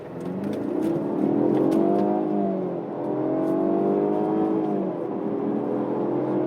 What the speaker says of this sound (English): We're just going to go for it and see how long it takes to get to 60.